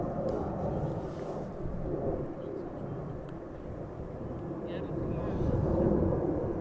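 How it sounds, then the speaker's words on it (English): Emirates Airbus A380-800 arriving at Amsterdam Schiphol in a crosswind: a broad, steady jet rumble that swells slightly toward the end, with a voice talking and occasional bird calls in the background. "Airbus A380-800 arrived from Dubai, where it left 6 hours and 22 minutes ago"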